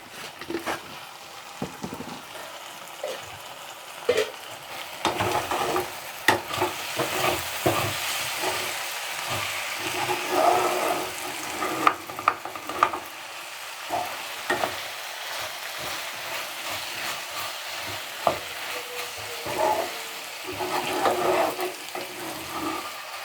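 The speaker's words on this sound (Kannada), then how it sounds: "ಇದಿಷ್ಟನ್ನು ಹಾಕ್ಬಿಟ್ಟು ನೀಟಾಗಿ ಮಿಕ್ಸ್ ಮಾಡಿ" Homemade sambar powder is stirred into a dish frying in a pan, with repeated scraping spoon strokes and clicks over a soft constant sizzle, close by and without talk.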